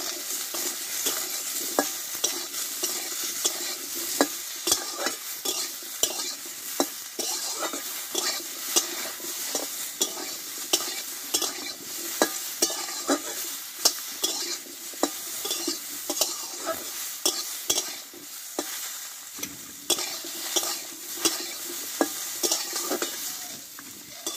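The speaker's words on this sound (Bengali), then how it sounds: "এবার দেবো একটু লবণ, আর দেবো একটু হলুদ গুঁড়ো, দিয়ে একসঙ্গে ভালোভাবে ঢেঁড়সটা কষিয়ে নেব।" Okra sautéing in a pan with salt and turmeric, a steady bright sizzle broken by frequent scraping, clinking spatula strokes that keep a loose, busy rhythm close up, with no voices.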